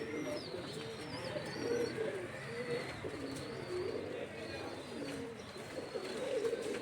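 Sialkoti black-faced baby pigeons give soft, repeated cooing calls, close and steady throughout, with faint chirps and background hiss.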